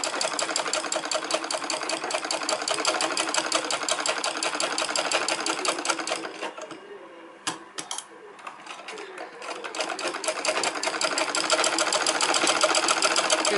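A sewing machine stitches fabric for a pooja seat for god idols, its rapid even clatter running steadily and close, briefly slowing and pausing midway before picking back up to full speed.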